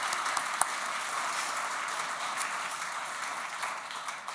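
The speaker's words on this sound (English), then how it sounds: "Let's give them one more round of applause" An audience at an economic forecast event gives a round of applause, a fairly quiet, steady wash of clapping with one sharp clap near the start, tapering slightly toward the end.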